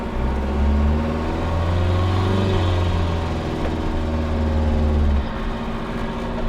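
A VW MK1 Rabbit fitted with a 1.9L ALH TDI diesel engine revs up and holds high for several seconds with rev hang, then drops back, a loud, steady drone recorded close with no talking.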